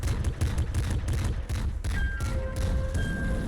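Dense, rapid gunfire from the Nuclear Throne video game as generators are shot, a continuous rattle of loud shots with a few electronic tones rising through the later volleys.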